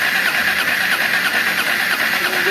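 A motorcycle engine with a stuck valve runs in a loud, steady, close-up clatter with a raspy mechanical tone and no talking.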